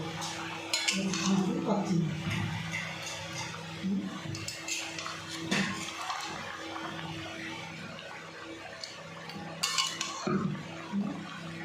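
A spoon scrapes and clinks against a cooking pan in irregular strokes while sautéing a dish, close and moderately loud, with faint background sizzle.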